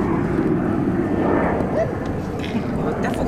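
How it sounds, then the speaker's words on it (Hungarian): An airplane flies over an outdoor film-set location, a broad continuous engine drone sustained at steady loudness, with voices faintly present beneath it. "3-4 percenként úgy jött egy repülő"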